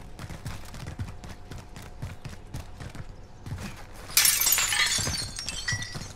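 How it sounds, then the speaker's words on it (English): Glass shatters in the Warzone video game, a bright crash of breaking glass arriving after a stretch of clattering footsteps and thumps. "No, I broke glass."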